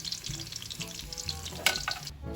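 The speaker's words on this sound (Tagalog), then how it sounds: "tapos ko na pong iprito ang ating pong saging" Banana slices frying in hot oil for banana cue, a steady crackling sizzle with occasional stirring clinks, close and continuous, no voices.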